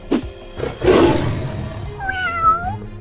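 A cat lets out a couple of loud, drawn-out meows close by, the second one wavering and rising, with a brief thump at the start.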